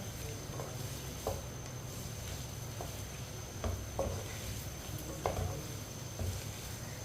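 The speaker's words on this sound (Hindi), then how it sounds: "आप टिंडों को 2-3 मिनट के लिए फ्राई कर लेंगे" Tinda (round gourd) frying in a pan over medium heat, giving a steady faint sizzle with occasional soft stirring taps and light clinks, with no talk.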